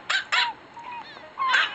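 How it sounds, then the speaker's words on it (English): A virtual dog in the Nintendogs + Cats handheld game barks three times in short bursts, two close together and one after a pause, with a faint voice murmuring in between. "It's his dog."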